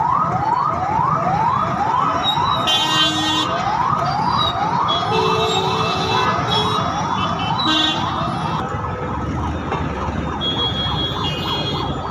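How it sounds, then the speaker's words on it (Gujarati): Ambulance sirens wail continuously and loudly in a traffic jam at Kalanala, several vehicles stuck together, their rising sweeps overlapping with horn blasts and road traffic noise. "આ સમસ્યાના કારણે ત્રણથી વધુ એમ્બ્યુલન્સો ફસાઈ હતી"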